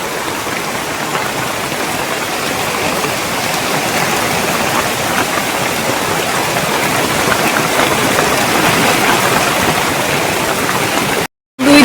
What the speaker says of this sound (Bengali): দেখো কি বৃষ্টি হচ্ছে দেখেছো একটু